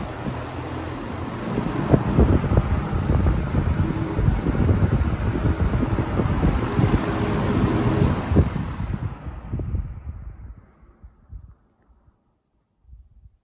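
A vintage 1970s Vornado 810 electric fan coasting to a stop, its airy whooshing whir fading steadily over several seconds until it falls almost silent, close to the microphone with no talk.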